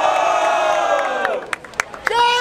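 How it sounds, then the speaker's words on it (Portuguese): Loud crowd at a Brazilian freestyle rap battle, the Batalha da Aldeia in Barueri, cheering and whooping together in a sustained roar, with sharp shouts and whistles cutting through toward the end. "Barulho pra cima de LC"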